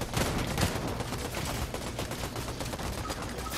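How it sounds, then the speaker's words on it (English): Gunshots in a video game firefight, a steady barrage of overlapping rapid shots and bursts, fairly loud and continuous throughout, with no voices. "Who the fuck just shot at me?"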